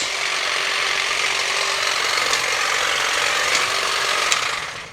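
A cordless battery-powered handheld hedge trimmer cuts back a snowball bush, giving a loud, steady buzzing drone that runs unbroken for several seconds with no voices, then fades slightly at the end.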